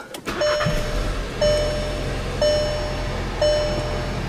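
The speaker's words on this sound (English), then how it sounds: "now I'm going to get in the vehicle, hold the brake, start the vehicle" A 2017 VW Golf Sportwagen, raised on jack stands for a transmission fluid service, briefly cranks and starts, then settles into a low steady idle beneath a warning chime that repeats about once a second.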